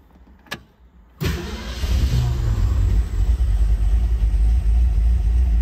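A 1966 Ford Mustang GT engine, parked for ten years, cranks after a brief click and catches, settling into a loud, steady rumbling idle close by.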